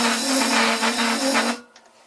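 A metal lathe machining a V-groove into a vintage round leather belt pulley, turning at a slow 70 RPM with a steady tonal whine and broadband cutting noise that stops abruptly near the end, close and alone.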